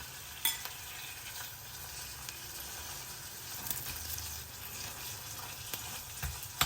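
Chicken frying in a pan for momos filling: a soft, steady sizzle and hiss with a few faint clicks and stirring sounds, fairly quiet and close.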